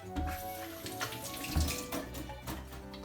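Running water from a tap splashes over sticky hands being washed at a kitchen sink while making Japanese onigiri rice balls, a steady close rinse with a few louder splashes and no talking.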